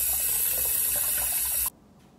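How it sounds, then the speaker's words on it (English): Water runs steadily from a tap as a 3D printer part is rinsed, a close broadband rush that stops abruptly near the end, leaving quiet. "Rinse it off, throw it in some water"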